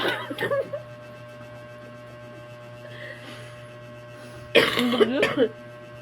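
Two bursts of coughing, one at the start and a harsher one near the end, over a steady electrical hum with quiet stretches between.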